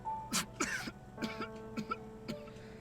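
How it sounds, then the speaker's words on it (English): A man coughs heavily after choking on air, a run of several harsh, close coughs and throat-clearing bursts, fairly quiet overall, with no speech. "which quickly devolves into heavy coughs"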